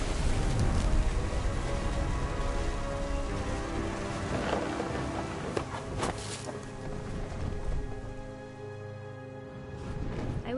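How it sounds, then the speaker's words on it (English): Heavy rain pours and thunder rumbles in the video game What Remains of Edith Finch, a dense, loud downpour with deep rolling thunder swelling and fading across the scene, no voices. "The thunder sounded much too close and full of angry power."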